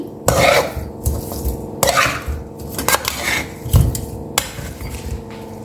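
Salt is stirred into chicken in a pan for karahi, loud close scraping and rasping of a utensil against metal in repeated strokes with occasional knocks.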